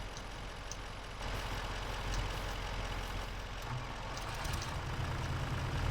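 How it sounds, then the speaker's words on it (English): A tractor engine in a farming landscaping game runs steadily at close range, a continuous low rumbling drone with a slight rise in intensity partway through and no talk over it. "Trying to get this tractor back up"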